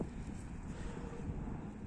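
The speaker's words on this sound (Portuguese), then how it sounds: "O vento tá forte mesmo, o vento ficou forte agora." Strong wind blows while a kite is being flown outdoors, a steady rushing roar buffeting the microphone with no voices.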